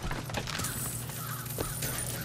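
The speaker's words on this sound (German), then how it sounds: "einfach erstmal die Krähen rufen" Crows summoned by the player in BioShock Infinite, a flurry of harsh cawing and fluttering over dense game noise, loud and close for the whole moment.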